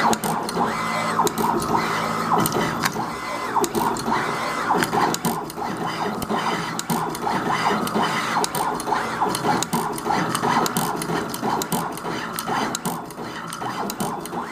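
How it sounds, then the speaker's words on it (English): A NeoDen TM-240A automatic pick and place machine runs continuously up close, a steady loud mechanical whir with rapid clicking and ratcheting from its moving head, no talking over it. "I'm gonna press the start button, and you will see the machine starting."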